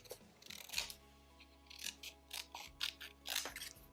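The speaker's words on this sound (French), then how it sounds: "je vais découper les 2 fleurs et je vois celle qui me va le mieux" Scissors snip through paper while cutting out two paper flowers, a quiet, close series of crisp blade clicks and short cutting strokes arriving in irregular bursts.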